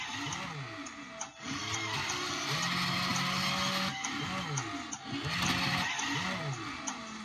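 Instrumental music plays from a toy Tomica Drift Turn Stage Fast & Furious moving diecast display, with a steady beat and melodic synth lines, continuous and fairly loud with short dips, under mechanical whirring from the moving track.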